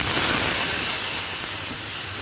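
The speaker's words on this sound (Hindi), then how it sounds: "2 चम्मच तेल खाना पकाने का, 2 चम्मच तकरीबन, थोड़ा सा ज़्यादा या कम। और अपना मसाला इसमें भूनेंगे" Spiced masala frying in about two spoons of cooking oil for a white bean dish gives off a steady, even sizzling hiss that holds at the same level throughout, with no voices.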